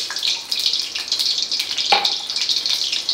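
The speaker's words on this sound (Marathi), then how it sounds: "पाणी हळूहळू टाकत एकदाच ग्लास ओतून नाही द्यायचं आहे" Water trickles slowly and steadily into gram flour in a bowl while a batter for shev bhaji curry is being prepared, a close, thin and continuous pouring sound with soft bubbling.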